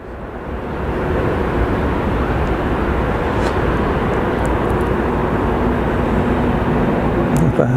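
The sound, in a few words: Saudia Airbus A320ceo airliner at Geneva Airport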